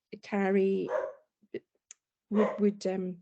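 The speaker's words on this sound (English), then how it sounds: "Sorry for the dog barking in the background." A dog barks in short bursts somewhere behind someone speaking over an online meeting link, its yaps partly blending with and briefly standing out between his phrases.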